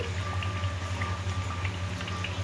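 Pongadalu, a dough of rice, maida, jaggery and cardamom with sesame, frying in hot oil, giving a steady, close bubbling sizzle with small pops throughout.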